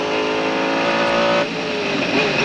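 Onboard roar of a Mercedes CLR race car at Le Mans in 1999, its engine howling loud and steady near the microphone, with a brief dip in pitch partway through as the driver lifts or shifts.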